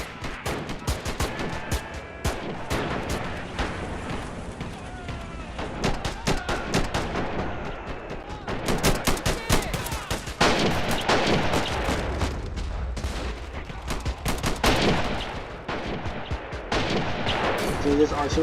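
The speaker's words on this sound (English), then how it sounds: "So this artillery cannon is already making fire" Artillery cannon fire in a Korean War battle game at Pork Chop Hill, with repeated sharp gunshot-like blasts and heavy continuous gunfire over a dense battlefield din, alongside some talk.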